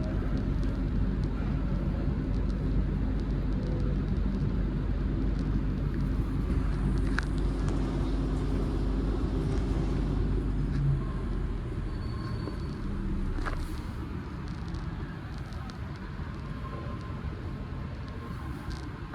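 A train pulling into Edinburgh Park station, heard from inside the carriage: a low, continuous rumble that holds steady, then softens and eases as the train slows.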